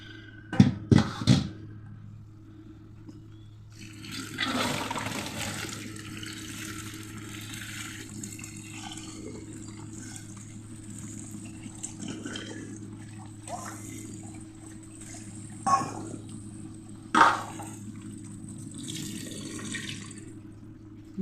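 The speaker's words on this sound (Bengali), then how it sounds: "এটাকে এখন আমি জল ঝরিয়ে নেব একটা ঝুড়িতে করে।" Water draining from soaked sabudana (sago) through a basket, starting with a few sharp splashes, then a soft, steady trickle with brief louder gushes near the end.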